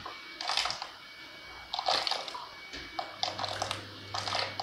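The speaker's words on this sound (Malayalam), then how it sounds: "തിളച്ച വെള്ളത്തിലേക്കാണ് നമ്മളിത് ചേർത്ത് കൊടുക്കേണ്ടത്" Hand-shaped rice dough balls for a traditional Kerala dish drop into a pot of boiling water, giving several separate splashy bursts with bubbling in between, close and moderately loud.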